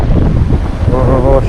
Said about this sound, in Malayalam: ഓ ഒടുക്കത്തെ കാറ്റ്. അയ്യോ, ഓപ്പോസിറ്റ് സൈഡിൽ നിന്ന് കാറ്റ് വീശിന്റെ പൊടിയും വരുന്നുണ്ട്